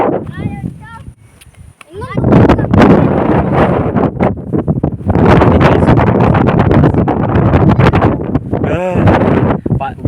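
Strong wind buffets the microphone in loud, continuous roaring gusts, with brief talk and a short lull early on.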